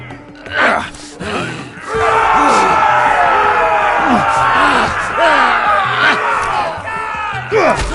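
An arena crowd in a Game of Thrones video game yells and jeers in a continuous roar, with individual shouts and groans rising above it close by.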